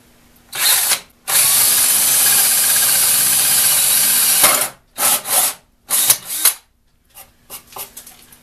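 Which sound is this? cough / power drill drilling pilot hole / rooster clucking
power drill drilling pilot hole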